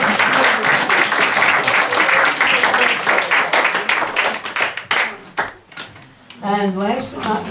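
Audience applause at a 90th birthday party, a dense, steady wash of many hands clapping that fills the room, then thins out and breaks off as a voice starts speaking.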